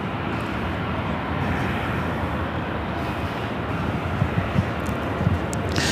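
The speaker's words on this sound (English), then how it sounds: "Air France Flight 23, looking like it's also a north side takeoff. The 777-300ER heading to Paris." Air France Boeing 777-300ER taking off from the north side at LAX, a steady broad roar of jet engines holding at a constant level, distant and unbroken, with a few faint clicks near the end.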